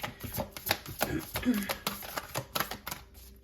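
Tarot cards are shuffled in a rapid series of crisp flicks and riffling taps, close and fairly loud, with a voice briefly present.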